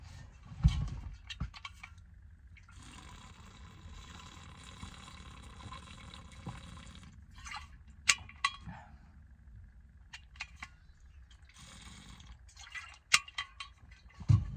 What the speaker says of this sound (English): I'm going to drink water,